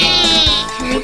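A sheep in a cartoonish eating-choice video game gives a loud, close bleat that wavers over about half a second, standing alone with game sounds behind it.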